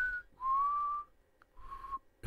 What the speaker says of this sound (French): Je sais pas qui c'est qui siffle